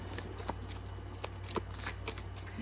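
Oracle cards being shuffled, giving soft repeated card flicks over a low steady hum, close and quiet, with no speech.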